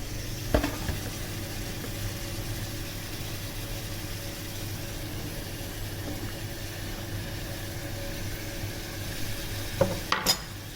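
Small cut potatoes cooking with chicken keema in a frying pan on an electric stove, a steady low sizzle throughout with a couple of brief knocks of utensil against pan.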